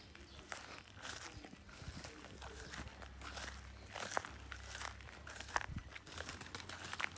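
Footsteps crunch through dry leaves on a bamboo forest floor on a hot day, a faint, uneven series of crackling treads close by.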